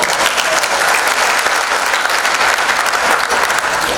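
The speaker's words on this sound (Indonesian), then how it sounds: "Tepuk tangan dong." Loud, dense applause from a crowd at a Malam Keakraban fellowship evening, continuous and close, with many hands clapping at once and no talk over it.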